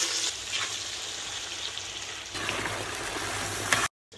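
Potatoes frying in oil until golden, a loud, dense close sizzle that runs steadily and swells briefly before cutting out.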